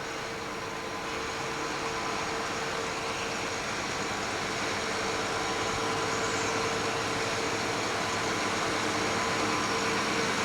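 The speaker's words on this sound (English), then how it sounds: "We now have the Heisler Brothers tractor" A Heisler Brothers tractor from a hardware and machinery dealership rolls along in a 1981 centennial parade at Lake Park, its steady engine drone continuous and fairly close, with a broad rumbling wash and no voices.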